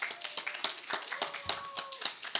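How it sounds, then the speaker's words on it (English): An audience claps for two debate teams at an English-speaking debate competition, a faint, fairly small round of distinct hand claps in a loose rhythm, with a high tone running beneath. "Let's applaud both of them for an excellent debate."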